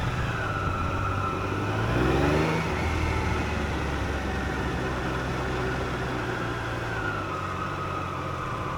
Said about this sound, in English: Let's release the cable clutch and head out onto the road.